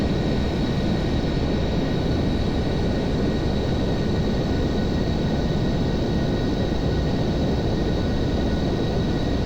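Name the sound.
Boeing 747 jet engines climbing after takeoff, Aerofly FS 4 video game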